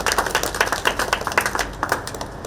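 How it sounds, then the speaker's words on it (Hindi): Audience clapping to welcome a guest at a Hindi-language event, a steady crowd patter of many hands sustained throughout at moderate level with no talk over it. "तमाम दर्शक वृंदों से आग्रह होगा कि आप तालियों के स्वागत से उनका स्वागत करेंगे"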